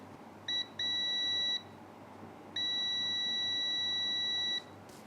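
Multimeter continuity beeps while a matte black coil on a mobile phone board is tested, giving a short bleep followed by two steady tones, one long and one longer, clear and close, with no talk.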